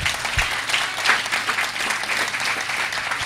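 A church congregation bursts into sustained applause during a service, a dense wash of clapping hands filling the room at a steady loud level for a few seconds, with a faint hint of voices underneath.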